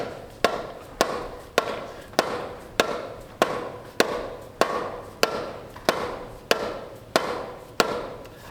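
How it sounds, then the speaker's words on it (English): A hammer taps on the carburetor of a V8 Buick LeSabre left sitting for 34 years, fourteen sharp, evenly spaced knocks about two-thirds of a second apart, close and loud, with no talk. "I'm gonna take this hammer and just start tapping around there and see if I can free anything up."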